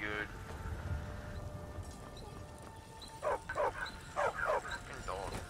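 A dog in the modded video game Skyrim barks in a few quick, sharp bursts in the latter half, moderately loud over faint game ambience and a low murmur of background activity.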